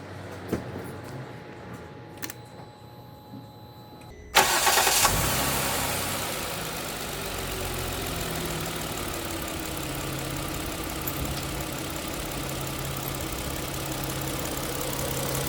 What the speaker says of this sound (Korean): 자, 시동 걸어 보겠습니다.